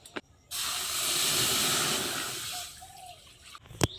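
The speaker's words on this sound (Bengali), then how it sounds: "আবার কড়াই বসিয়ে দিয়েছি এই কড়াইয়ে এখন জল দিয়ে দেব তাতে জলটা গরম হোক" Water poured into a hot wok while cooking sujir vapa pitha gives a steady, close hissing rush of steam and sizzle lasting a few seconds, then cutting off, with a faint clink at the end.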